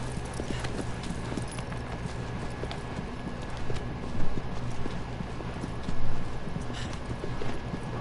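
Horse hooves clip-clop steadily in a riding gallop from the video game Shadow of the Colossus, a continuous rhythmic pattern over a low ambient rumble, with a couple of slightly louder swells and no talking.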